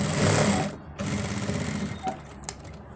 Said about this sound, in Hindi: और फिर यहाँ पे हम मशीन उतार देंगे।